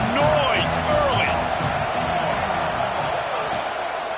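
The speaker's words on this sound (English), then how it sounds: "This crowd bringing the energy and noise early." A steady stadium crowd roar fills an Ohio State football game, heard as a broad, constant wash of noise under a commentator talking.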